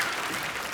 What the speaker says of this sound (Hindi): जोरदार ताली लेने के लिए